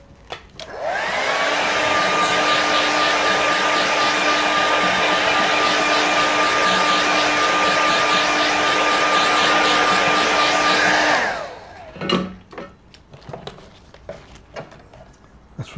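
Hair dryer blowing a loud, steady whine for about ten seconds to dry a watercolour painting, then cutting off abruptly, followed by faint handling noises.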